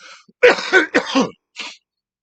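Harsh, hacking coughs after pulling on strong Gorilla Cookies weed, three close bursts followed by a fainter fourth, loud and near with no talking.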